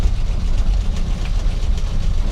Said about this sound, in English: We'll take it out for a drive real fast just to prove that it does shift.